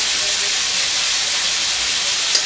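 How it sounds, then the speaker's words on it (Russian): Steady, loud hissing sizzle of pork frying in a pan, an even, unbroken spatter heard close throughout. "Жарится мясо."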